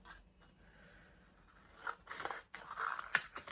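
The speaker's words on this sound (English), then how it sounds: "So let's just snip a bit off" Scissors snip a strip off a piece of card for a die cutting machine, giving a few short, close crunchy cuts over a quiet background, with the sharpest snip near the end.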